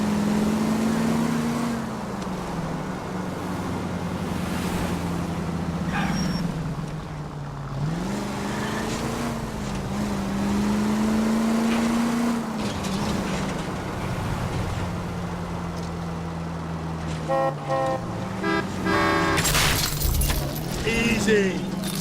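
A car driving through city streets in L.A. Noire, a continuous engine drone rising and falling as it speeds up and slows, with a crash near the end and voices talking over it.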